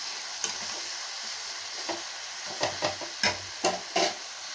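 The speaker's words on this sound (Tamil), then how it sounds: "இதையும் நல்லா பிரட்டி விடலாங்க." Raw mango pickle with chili powder being stirred in a pan over a soft frying sizzle, with a handful of clacking spoon scrapes against the pan, most clustered toward the end.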